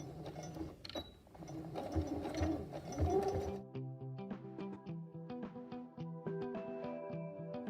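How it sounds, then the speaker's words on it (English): Close-up sewing machine running fast as it top stitches around a child's puff sleeve, first with busy rustling handling of fabric, then a steady mechanical whir with rapid rhythmic needle clatter. "I will top stitch the sleeve around."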